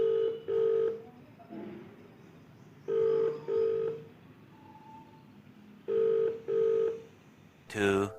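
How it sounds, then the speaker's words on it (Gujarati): A mobile phone call rings out: paired ringback tones repeat in a steady rhythm with gaps between, a faint voice murmuring underneath, and a brief electronic burst at the very end. "તો આપણે એને ફોન કરીએ કે ભાઈ ક્યાં પહોંચ્યો"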